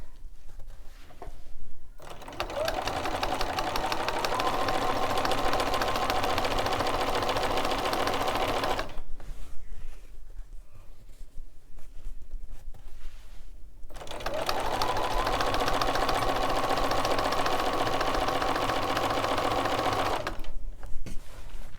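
A sewing machine stitches binding onto a quilt in two long, steady runs of rapid, even whirring, with a short pause and handling noise between bursts, close and moderately loud.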